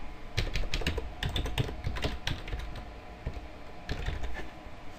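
Fast typing on a computer keyboard while entering a web address in Internet Explorer on Windows 7: crisp clustered key clicks in quick bursts, close and clear, with a brief lull before a final flurry.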